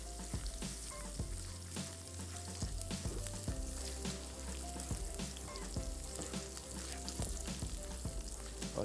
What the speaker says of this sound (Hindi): लहसुन को थोड़ा सा लाल करना है।